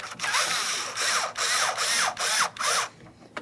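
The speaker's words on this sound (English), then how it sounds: "Let's loosen each one of these two mounting bolts." A ratchet loosening the door mounting bolts on a 2006-2012 Ford Fusion, five rhythmic clicking strokes separated by short pauses, close and clear with no talking.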